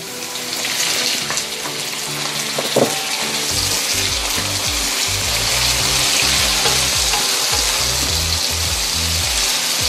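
Tenderized beef sautéed with garlic and onion for kaldereta, giving a loud continuous sizzle with intermittent low clattering and scraping from stirring in the pan.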